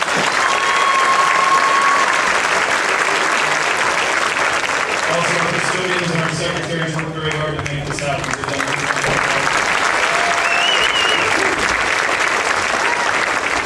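A graduation audience at Taft applauds the school's teachers and staff, a steady, dense wash of clapping from a large crowd that carries on throughout while a speaker keeps talking over it.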